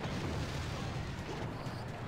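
A blast in the Clash Royale mobile game wipes out a group of minions in one shot, a dense, rumbling boom that fills the brief moment with low crackling noise and no clear voice.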